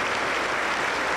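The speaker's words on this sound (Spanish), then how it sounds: "Un fuerte aplauso para el Señor Jesús." Loud, dense applause from a church congregation during a sermon, steady clapping throughout the short moment.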